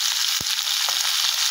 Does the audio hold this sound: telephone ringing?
no